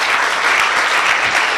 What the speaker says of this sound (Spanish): Vamos a hacer un aplauso a don Isabel.